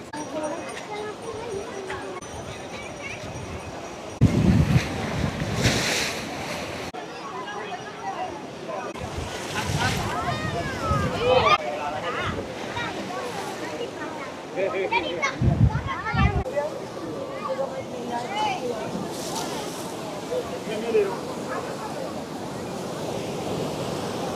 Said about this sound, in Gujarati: હવા ફૂલ ચાલી રહી છે